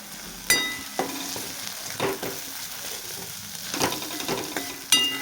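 Soybean curry with spoonfuls of homemade chili masala sautéing in a pan, a spatula scraping and tapping every second or so against a steady background sizzle.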